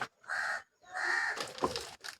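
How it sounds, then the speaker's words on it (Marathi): A crow cawing several times in quick succession, harsh and fairly close, with brief pauses between calls. "कावळा आलेला आहे"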